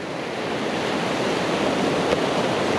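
On a North East coast shore during cod bait fishing, the sea surges with a slight swell, a steady broadband wash of surf close by, mixed with light wind and no speech.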